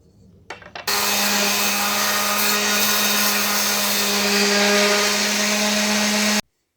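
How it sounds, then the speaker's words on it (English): A wooden naginata shaft being worked with sandpaper makes a loud, steady abrasive whir that starts abruptly after a few light knocks, holds for several seconds, then stops sharply. "I'm gonna just clean that up with sandpaper"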